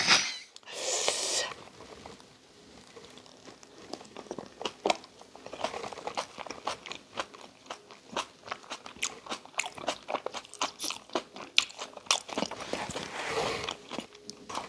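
Someone eating curry and well-fermented spicy kimchi with rice cooked in an iron cauldron, close-up with repeated crunchy bites and chewing that continue steadily, no talking.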